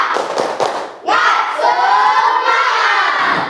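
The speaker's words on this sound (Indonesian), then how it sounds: "sekarang kita tepuk semangat dulu" A classroom of children claps and chants together in a loud rhythmic spirit cheer, a teacher's voice leading briefly before the group's rapid clapping and shouting fill the room.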